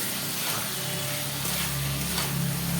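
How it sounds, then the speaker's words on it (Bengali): Fried okra added to a hot pan sizzles in a steady, dense hiss with faint stirring clinks, close and continuous with no talk. "এর মধ্যে আমি ভেজে রাখা ঢ্যাঁড়সগুলো দিয়ে দেব"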